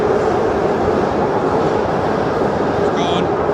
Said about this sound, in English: There's the metro going away